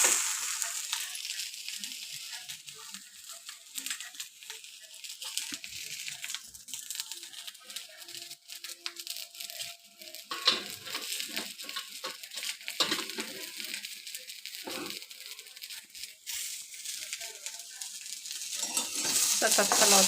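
Corn kernels roasting in oil and salt in a pan while being stirred continuously, a steady hissing sizzle with scraping and rattling of kernels against the metal, with speech in places.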